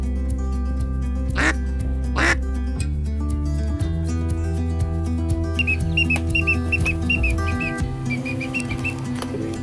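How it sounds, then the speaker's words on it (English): A blue-winged teal calls during a hunt outdoors, giving a series of short, high, nasal peeping quacks, clear and fairly close, over a low rumble and a few other sounds. "That's a blue-winged teal."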